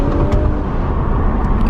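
A BMW M4 with a twin-turbo engine pulls hard under acceleration, a loud, dense, continuous engine roar heard close from inside, with no voices over it.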